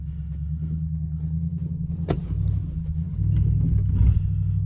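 A Cadillac-engined rat rod roars with a deep, steady rumble that swells as the throttle opens, with harder acceleration building in the last second and a half; near and loud, with no talk.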